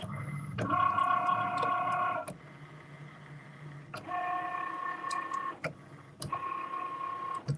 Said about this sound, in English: I just want y'all to see that the Cricut can cut through the magnetic sheet